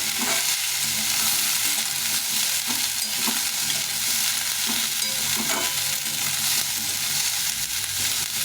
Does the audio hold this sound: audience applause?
no